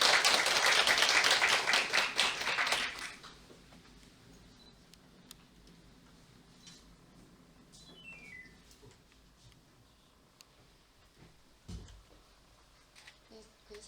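Audience at a school project briefing at Gangneung Jungang High School breaks into loud applause for about three seconds, then the clapping stops and faint room sounds and quiet talk follow.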